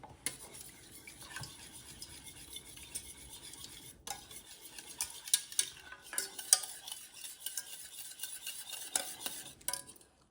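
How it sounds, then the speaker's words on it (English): A whisk stirs a vinegar-based homemade barbecue sauce in a bowl, producing a soft, continuous swishing with scattered light clinks against the sides, close and moderately quiet, with no voices. "I'm just gonna whisk."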